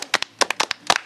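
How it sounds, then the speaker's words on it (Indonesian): Indonesian national team football supporters clap in short, uneven bursts, a handful of sharp, close hand claps grouped in quick pairs over a brief moment. "Tepuk tangan."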